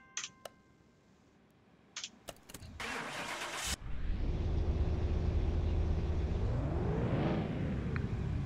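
A car engine on a test bench in Car Mechanic Simulator: a few sharp clicks and a whir, then the engine cranks and catches, settling into a loud steady run that briefly revs up near the end.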